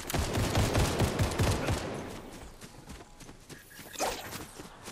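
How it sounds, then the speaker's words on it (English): Gunfire in Fortnite, with sniper shots among a burst of rapid overlapping cracks early on, then thinning to scattered, fainter shots and one sharper report near the end. "I'm hearing snipers"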